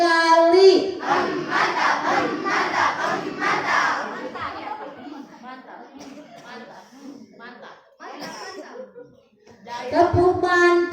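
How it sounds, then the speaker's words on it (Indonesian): A crowd of students at a school outreach session at MTs Al Furqon chanting loudly in unison, then a stretch of scattered quieter voices before another strong group shout near the end. "Tepuk mantap dong sekali lagi"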